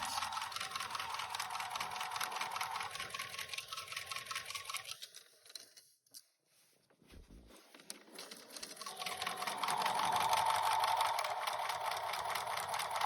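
A domestic sewing machine runs in steady whirring bursts while stitching and back-stitching fabric to reinforce a seam, pausing briefly in the middle before picking up again at close range, with no talking.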